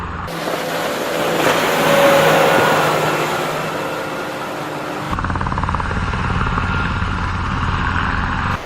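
A helicopter running short of fuel roars close by, its loud whirring swelling and then holding steady, with a sharp change in tone midway as it continues in flight, no talk over it.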